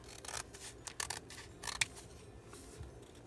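Scissors cut through paper for a handmade notebook, a few quiet, close snips and rustles spread unevenly over a few seconds with no talking.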